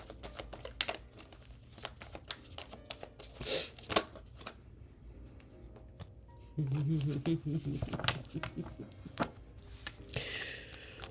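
Tarot cards are shuffled by hand at close range. There is a busy run of soft riffling, slapping and sliding taps that carries on throughout, with a denser rustling burst partway through and a person talking quietly underneath.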